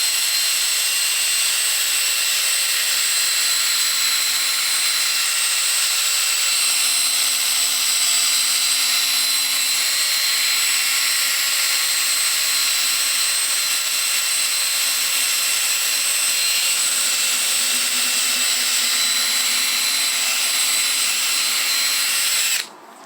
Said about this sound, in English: Hit it with the old buffing pad again.